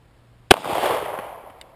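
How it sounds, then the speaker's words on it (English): A single sharp pistol shot from a Staccato P fired at 7 yards, close and loud, with a short ringing tail fading over about a second. "We're going to start with the circles at the bottom, the 1-inch circles, 7 yards, 1 shot per in the Staccato P."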